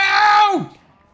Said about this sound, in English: I don't know which cows I just lost.